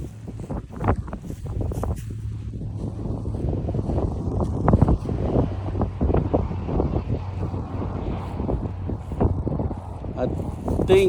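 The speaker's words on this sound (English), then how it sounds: "Oh, it's so windy here, look" Strong wind buffeting a microphone outdoors in a backyard, irregular low rumbling gusts and thumps that rise and fall throughout, loud and close.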